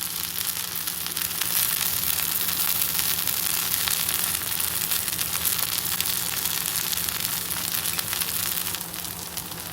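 A vegetable uthappam fries in oil on a pan, giving a dense, continuous crackling sizzle that stays loud and close for about ten seconds, with a low steady hum beneath and no talk.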